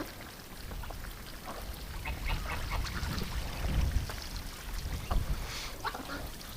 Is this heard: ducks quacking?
yes